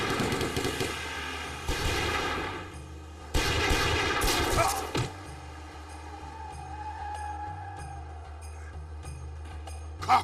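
Bursts of gunfire crack in quick clusters in the opening seconds, loud and sharp, then give way to quieter rumbling and scattered clicks with a faint engine-like drone.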